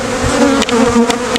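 Honey bees swarming around an open hive during spring splits, a dense, loud, continuous buzzing hum up close with slight wavering as individual bees pass near.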